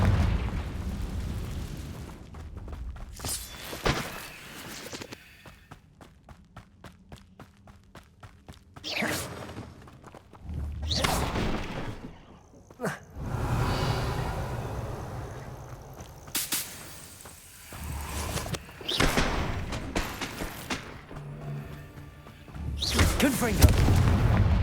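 Confringo fire spells in Hogwarts Legacy burst repeatedly as loud, sharp blasts at irregular intervals, separated by quieter stretches with footsteps and a voice now and then.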